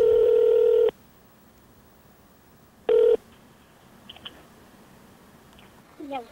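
Two long electronic dial tones from a telephone handset, the first lasting nearly a second and the second shorter after a pause, then faint clicks and a brief rustle in a quiet room.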